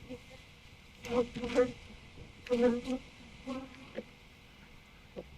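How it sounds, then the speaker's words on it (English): Honeybees spread across the frames of a full hive after a nuc transfer, a faint buzzing with several short louder bursts as individual bees fly close, otherwise quiet. "the bees are now coming across all the frames"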